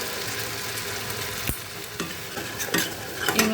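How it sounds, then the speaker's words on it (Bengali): A paste of garlic, ginger and green chili is sautéed with browned onion, giving a continuous close sizzle broken by a sharp spatula knock and several scraping stirs toward the end, with no voices. "আমি এর মধ্যে একসঙ্গে রসুন, আদা, কাঁচা লঙ্কা বেটে রেখেছি, এটা এবার এর মধ্যে দিয়ে দিলাম। এটাকে আমি খুব ভালো করে কষিয়ে নিচ্ছি।"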